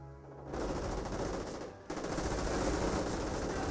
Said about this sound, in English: Sniper shots there onto the scope rifle squad.